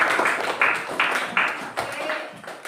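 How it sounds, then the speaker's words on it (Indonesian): A small group in a teacher training session gives a short round of applause for a participant, about six uneven bursts of clapping in a room, fairly close and loud. "Tepuk tangan buat Lisa."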